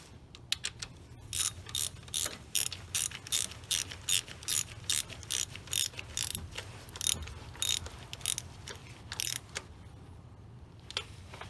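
A ratchet with a 13 mm deep well socket tightening a nut on a 2000–2005 Impala 3400 engine, a close, fast run of crisp clicking strokes in quick bursts, then a pause and a few last clicks.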